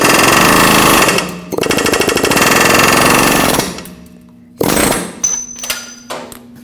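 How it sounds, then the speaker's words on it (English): Pneumatic air chisel hammering at a lower ball joint on a 2WD Nissan Frontier, a loud rapid buzzing rattle in two long bursts, then a pause and a few shorter, weaker bursts. "I'm going to take an air chisel and try to drive it out"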